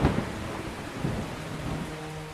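Rain pours steadily with a heavy rumble of thunder at the start, settling into a dense hiss of falling water across the whole stretch.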